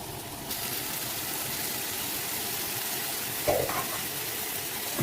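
Onions tossed into a hot pan for an egg curry sizzle and fry steadily, a dense, even hiss with a brief stir or clatter partway through.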